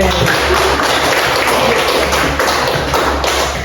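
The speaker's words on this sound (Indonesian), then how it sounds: "aplaus untuk temannya dulu" A primary school classroom bursts into applause for a classmate, many hands clapping in a dense, loud, steady patter that fills the room for several seconds with faint voices mixed in.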